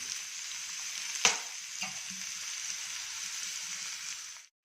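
Idli upma with grated carrot, coconut, coriander and salt is mixed in a hot pan: a steady close sizzle runs throughout, broken by a couple of sharp spatula knocks, before it cuts off.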